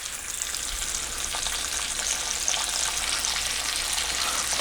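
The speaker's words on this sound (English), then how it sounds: "Throw the bacon in there like so. Just laying in the pan." Bacon lies frying in a pan, putting out a steady, even crackle and sizzle that holds throughout with no talking over it.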